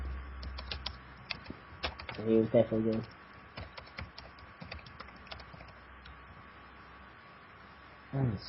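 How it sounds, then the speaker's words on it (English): Faint clicks of computer keyboard typing come in scattered bursts throughout, sitting beneath short stretches of casual talk. "Somebody's typing."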